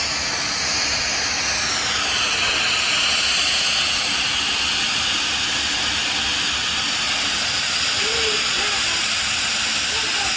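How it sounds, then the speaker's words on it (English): A Bissell PowerFresh 1544A steam mop lets out a steady, loud hiss of steam that runs the whole time, with a slight shift in tone early on. "Now you can see the steam coming out there. This thing is a steam machine."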